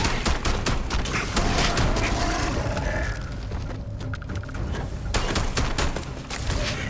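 Rattler gun firing in Starfield, rapid bursts of sharp close shots in quick succession, a short lull with faint mechanical clicks before the rapid fire resumes.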